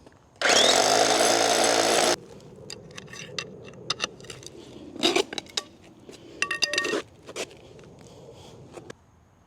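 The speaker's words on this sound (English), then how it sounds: "So corners are the very last thing that we drill and install." A power drill whirs loudly for about two seconds, drilling for pool cover deck anchors, followed by scattered metallic clinks and taps of the anchor hardware being handled nearby.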